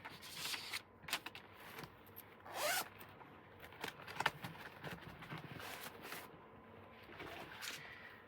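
Zipper on a cash savings envelope bag pulled open in a few quick rasps, along with paper money and fabric rustling, close and quiet, no talking.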